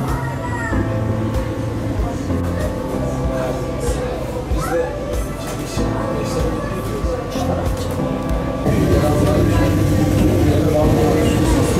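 Marmaray commuter train running on the Halkalı–Gebze line near the Marmara Sea shore, a steady rolling rumble from inside the carriage that grows louder toward the end, with someone talking over it.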